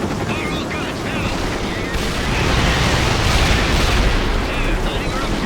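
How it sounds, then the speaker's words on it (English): A heavy gunship unloads all its guns in World in Conflict, a dense, loud, continuous roar of rapid gunfire and explosions that swells louder midway and stays sustained, with battlefield radio voices mixed underneath. "Locking all weapons on target, sir. Heavy gunship. Fire all guns now."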